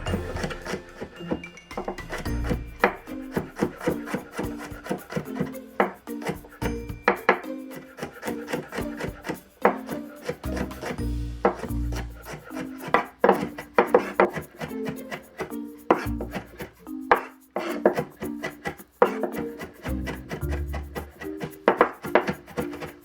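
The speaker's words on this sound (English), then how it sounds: "And next we can mince the garlic." A knife chops steadily on a wooden board while garlic is minced, with quick, irregular clusters of crisp taps that are close and clear, and no talking.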